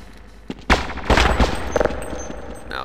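Weapon fire in Half-Life: a single sharp shot, then a dense burst of rapid gunfire, with further scattered reports trailing off into game ambience.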